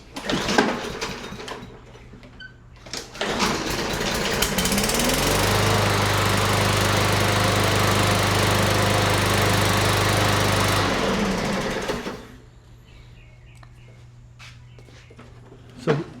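Small petrol engine running steadily after a carburetor rebuild, loud and continuous for several seconds after being primed and pull-started, then cutting back to a lower steady level near the end.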